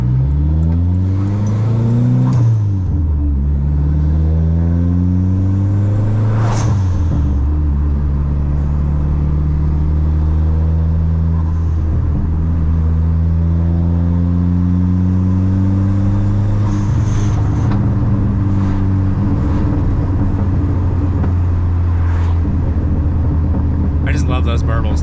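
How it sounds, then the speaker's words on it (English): Dodge SRT-4 engine with a new blow-off valve, heard from inside the car: loud sustained revving that rises and falls repeatedly with deep rumble throughout, while people talk over it. "The new blow-off valve, it's amazing,"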